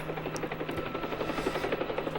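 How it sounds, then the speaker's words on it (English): Helicopter rotor and engine, a continuous throbbing drone with rapid rhythmic chopping, moderately loud and steady throughout, no voices. "Hey, it's a helicopter."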